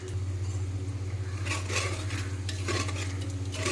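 Onions and green chillies stir in a pan over garlic paste for a mutton biryani, with soft sizzling and scraping spoon strokes over a steady low mechanical hum, close up and moderately loud.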